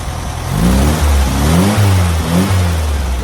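A 1972 VW Super Beetle engine, running outside the car, idles close by and revs up several times, the pitch rising and falling with each throttle blip.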